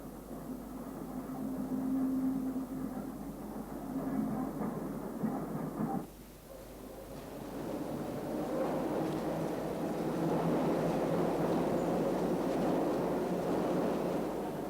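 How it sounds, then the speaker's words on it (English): Isle of Wight train with locomotive Number 25 Godshill at a pier station, giving a steady low rumble with a hissing, noisy rush. The sound shifts abruptly midway and then builds into louder, continuous running noise. "Number 25 Godshill is preparing to depart, so we must board the train"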